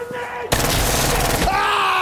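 Vector submachine gun in Insurgency Sandstorm, fired as one loud, sustained burst lasting about a second with fast, continuous automatic fire, then a tail and ringing afterward.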